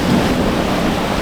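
Large storm waves at sea rush and roar around a sailing boat in a dense, continuous wash of surf and wind, loud and close, with no talk.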